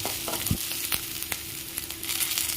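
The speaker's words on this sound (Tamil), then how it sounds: "இப்போ நம்ம கறி எடுத்து போடலாம்" Chicken pieces with onions frying for pepper chicken, a low, steady sizzle broken by a few sharp clacks and scrapes of a spatula in the pan, close and fairly quiet.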